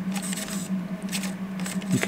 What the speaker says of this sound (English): You can kind of hear the kind of mechanical sound as it turns the cams for the slow speed mechanism.